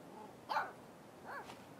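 A dog barks in the video game Life Is Strange 2, two short yips about a second apart, the first louder, over a quiet background.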